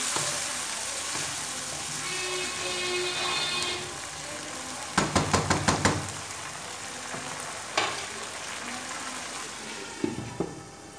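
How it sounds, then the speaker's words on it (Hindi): Chickpeas and eggplant cook in a pan after a little water is added, with a steady sizzle and bubbling, a burst of quick scraping stirs partway through and a few later clinks, with no talk. "अब इसके अंदर थोड़ा सा पानी डाल दूँगी, तकरीबन ये वाले 2 चम्मच मैंने डाले हैं इसके अंदर पानी, और इसे पकने के लिए छोड़ देंगे"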